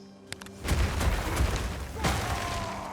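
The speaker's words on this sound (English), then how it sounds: "it has a very powerful explosion triggered by Warcry after you put down enough spikes" A Path of Exile 2 Earthshatter warcry triggers a powerful explosion from placed spikes: a short pop, then a heavy booming blast with rumbling debris, followed by a second sharp detonation near the end.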